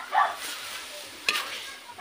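Taro leaves for laing are stirred in a hot pan, giving a steady sizzling hiss with a few scraping strokes of the spatula. The stir strokes come as short bursts near the start, middle and end.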